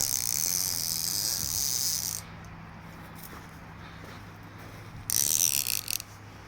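A ratchet line tightening a 3x3 tarp outdoors gives a close, bright run of rapid ratcheting clicks for about two seconds. After a quiet pause, a second shorter burst of ratcheting follows near the end.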